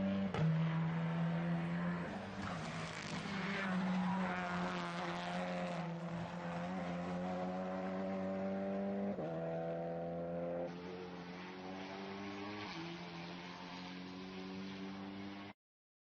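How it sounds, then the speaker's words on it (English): A TCR touring race car pulls out of the pit lane at Misano during an endurance race. The engine's steady, tonal drone steps up in pitch through several gear changes at moderate distance, with no voices. "Here he is driving out the pit lane and back on track."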